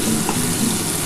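Vegetables frying in hot oil in a pan while cooking a Bengali vegetarian banana flower dish, a steady close sizzle with faint stirring, continuous and fairly loud.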